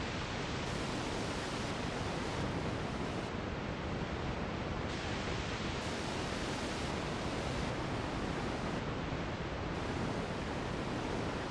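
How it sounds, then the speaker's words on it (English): Constant broadband tape hiss from a simulated lo-fi tape recorder app on iOS, steady and even throughout. Its brightness shifts slightly every second or so as the hiss style and tape speed settings change. "so you've got a nice little selection there of hiss if you'd like to add hiss into your sounds"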